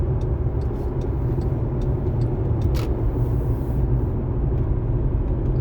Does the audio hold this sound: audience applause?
no